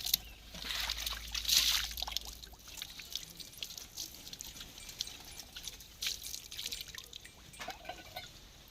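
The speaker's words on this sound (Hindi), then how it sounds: "फिर थाली में पानी डाल के पानी पिलाते हैं" Water is poured into a metal plate for a pet to drink, with splashing and trickling that starts strongly and then settles into light dripping and sloshing, close by and without speech.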